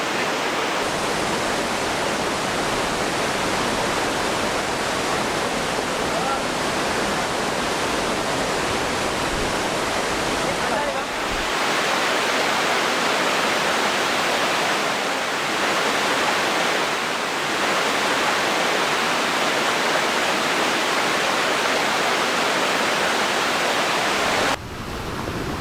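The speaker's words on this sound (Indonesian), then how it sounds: "Subhanallah, itu air terjun paling tinggi" A very tall waterfall roars in a steady, dense wash of falling water, loud and close, continuous for the whole stretch with only slight swells.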